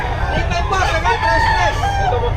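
Roosters crow among chickens at a busy spot in Bocaue, with several wavering crows rising and falling over a constant background of crowd chatter and babble.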